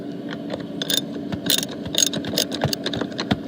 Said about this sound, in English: That's a 19mm bolt, so I'm just going to tighten that up.